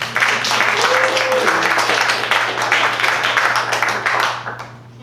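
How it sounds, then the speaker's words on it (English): An audience at a jazz combo Hanukkah celebration gives a round of applause for a flugelhorn player, with steady clapping over a low hum and a brief voice, tapering off at the end. "One more round of applause for Margaret."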